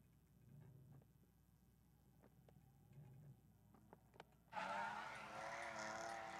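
Drift cars jostle in the pit at a drift event: a low idling hum with faint knocks gives way to a sudden loud engine roar that holds steady to the end.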